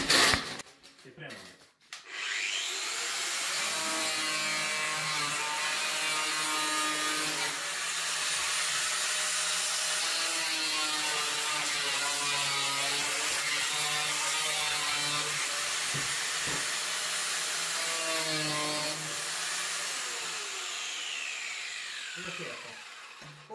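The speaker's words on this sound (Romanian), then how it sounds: "Și acum o să tăiem cu flexul, bucata asta." An angle grinder cuts through a sewer pipe during a repair under a concrete slab at a house, a steady harsh grinding whine held for about twenty seconds up close, with voices talking nearby.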